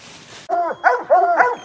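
Hunting dogs out in the field let loose a close run of sharp barks and yips mixed with high whimpering whines, coming in three or four quick bursts.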